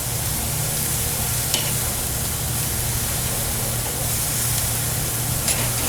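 Marinated carne asada meat searing hot for tacos, giving a dense, even hiss of sizzling that runs steady and fairly loud throughout, with a couple of faint clicks and no talk.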